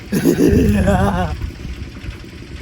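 A person's voice imitates a donkey's bray: a loud, close, wavering cry lasting just over a second, then fading into quiet room noise.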